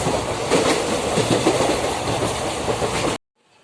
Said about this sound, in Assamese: এফালে ট্ৰেইন গৈ আছে